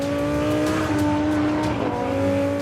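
A Lamborghini Huracán's heavily reworked 5.2-litre V10 revs with a hard, steady engine drone. The sound stays moderately loud and holds a constant tone, and no voices are heard.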